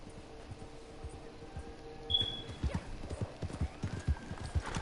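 Horse hooves clip-clop in Red Dead Redemption 2, irregular steps on ground growing louder and closer, with a brief high squeal and a faint background hum.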